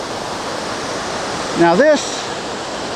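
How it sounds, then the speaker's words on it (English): A tiered waterfall near Rangeley, Maine pours with a continuous loud rush of falling water, while someone speaks briefly over the steady roar. "up here the water is coming from another level of waterfall"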